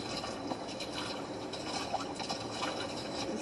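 Feet dragging and sloshing through shallow water, a steady wet swishing and trickling texture with soft splashy pulses throughout, close by and fairly quiet, no talk.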